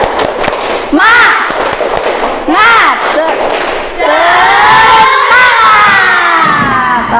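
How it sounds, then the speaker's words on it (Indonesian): A seventh-grade class at an Indonesian Islamic junior school stands and does a spirit clap-and-chant, children shouting in unison with loud bursts of rhythmic clapping, fairly close and energetic. "Ayo, tepuk semangat."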